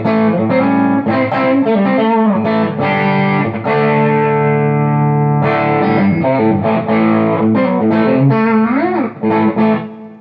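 A Sterling by Music Man Cutlass CT-50 electric guitar with a light overdrive, loud and close, with ringing chords and single-note lines over about ten seconds of steady playing.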